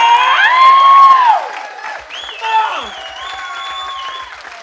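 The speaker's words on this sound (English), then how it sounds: "A big, big round of applause" A live show audience gives a big round of applause mixed with loud cheering and whoops, with voices rising over the clapping at first and then settling into steadier applause.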